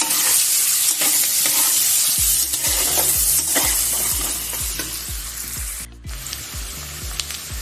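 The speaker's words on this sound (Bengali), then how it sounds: "সেই পেঁয়াজটা এবার তেলের মধ্যে লাল লাল করে ভেজে নেবে" Finely chopped onions fry in hot oil, producing a loud, dense sizzle punctuated by regular scraping strokes of a spatula against the pan.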